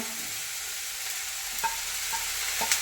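Mulberry leaf stir-fry (thoran) sizzles steadily in a pan, with a few soft spoon taps and scrapes as it is gently stirred.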